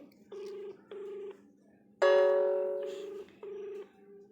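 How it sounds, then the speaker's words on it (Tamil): An outgoing phone call ringing on loudspeaker: short ringback tones repeat in pairs, broken by a louder sustained tone that fades away. No one speaks. "ஃபோன் போயிட்டுருக்கு."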